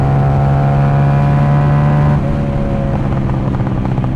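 A car engine held high near 7,000 rpm with a steady droning tone that suddenly drops, then breaks into crackling exhaust pops as the revs fall, loud and close.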